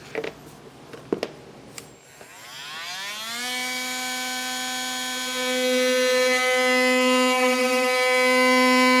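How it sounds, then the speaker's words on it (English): Oscillating multi-tool cutting into a 2021 Jaguar bumper for a Curt Class III trailer hitch, a few clicks, then a loud buzzing drone that rises in pitch and holds steady. "then I'm just going to take my multi-tool to cut through this"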